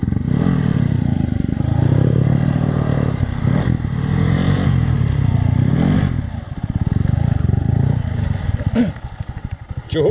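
A Bajaj Boxer 150 motorcycle ridden off-road through a forest, its engine droning loud and close throughout with rising and falling revs, rattling clatter and scraping over rough ground.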